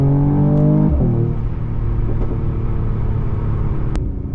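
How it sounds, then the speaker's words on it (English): A Mercedes E53 AMG with 429 horsepower accelerates while merging onto a highway, its loud engine rising in pitch, shifting near the one-second mark, then pulling on with a steady heavy rumble from inside the car. "As we merge onto the highway, you will see our performance 0 to 60 in 4 seconds."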